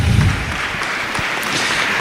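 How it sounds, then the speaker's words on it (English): An audience applauds a youth summit panel in a broad, steady wash of clapping that holds evenly for the whole stretch, with no talk over it. "Let's give a big hand clap to my panel."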